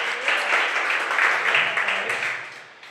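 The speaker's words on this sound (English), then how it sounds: "Clap your hands if you got kids." A comedy-show audience claps in a burst of applause that swells and then tapers off, with a faint voice underneath.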